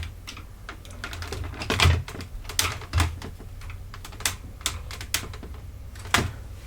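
Plastic clicks, taps and knocks come at an irregular pace as a Commodore 64 keyboard is slid into the supports of a MicroPET case. A few sharper bumps stand out over a faint, quiet background.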